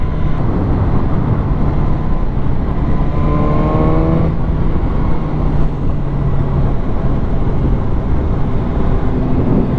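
A BMW S1000R motorcycle pulls hard with a loud, steady engine roar, its pitch climbing in rising sweeps as quickshifter gear changes cut in around the middle, with constant wind and road noise throughout.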